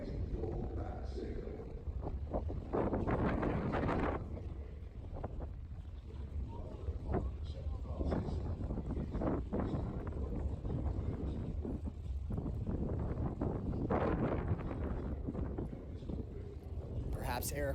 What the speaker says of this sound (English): Perhaps Eric waiting for the wind to die down just a little bit.